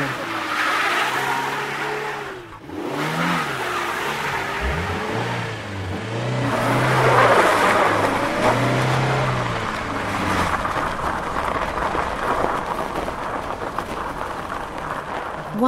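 A car stuck in winter snow in Russia revs hard with its wheels spinning while it is pushed free. The engine note rises and falls loudly over several surges, then settles into a rougher, steadier rumble, with faint voices.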